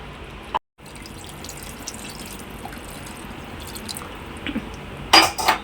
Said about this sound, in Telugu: ఆ వాటర్ మొత్తం ఇందులో పోసేసుకుంటున్నాను